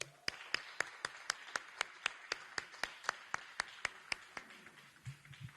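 A few people clap in a steady, evenly spaced rhythm at a Los Angeles homeless count results press conference, the sharp claps fairly faint and tapering off near the end.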